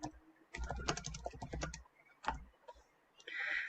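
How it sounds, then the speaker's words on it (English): A short search query is typed on a computer keyboard: two quick bursts of clattering keystrokes with a pause between them. The typing is close, clear and alone, with no speech. "So let's take if I come over here and type something like this,"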